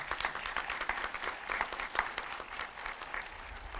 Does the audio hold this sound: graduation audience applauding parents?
yes